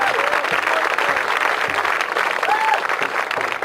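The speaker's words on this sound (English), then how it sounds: "give yourselves a round of applause." Crowd applause at an outdoor protest rally against a power station, steady dense clapping and cheering from many people throughout, with a voice faintly heard over it.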